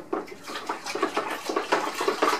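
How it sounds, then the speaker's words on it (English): Tap water runs and splashes into a homebrew fermenter being filled up to 23 litres, a steady close gurgling pour with rhythmic surging pulses and no talking. "we need to get that, fill it up to 23 litres"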